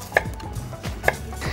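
Knife chopping radish into thin slices on a board in a restaurant kitchen, with a few sharp, distinct cuts spaced about a second apart, close and clear, with no talk.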